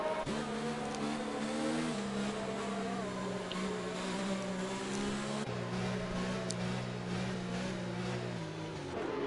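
Racing video game engines drone and rev continuously as a pack of race cars passes behind the safety car at the Belgium Grand Prix, with shifting pitch and gear changes under steady loud engine noise.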